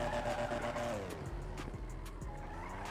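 Drift Peugeot engine in GTA 5 making a weird dying noise, its tone sliding steadily downward as it winds down, with a few thumps and scrapes over the last second or two.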